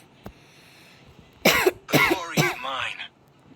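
A person with a cough coughs in a few harsh, close bursts and clears the throat, after a single faint tap, rather loud against a quiet background.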